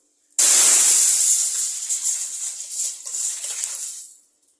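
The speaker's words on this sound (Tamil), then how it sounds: "கரைச்சி வச்ச புளி தண்ணியை இதில் ஊற்றிடலாம்" Tamarind water hits a hot pan with a sudden loud sizzle, a bright hissing burst that slowly fades and crackles down over a few seconds.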